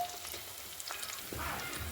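Hot oil tempering of onion, cinnamon sticks and bay leaf sizzles and crackles steadily in a pan over a wood-fired stove, a broadband frying hiss that swells louder in the second half, with no voices.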